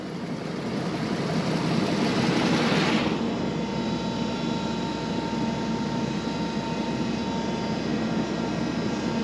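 An electric fuel transfer pump runs steadily, moving fuel into a tractor out in a field: a loud, continuous mechanical drone and whine holds from start to finish, with a brief hissy surge early on and no talking.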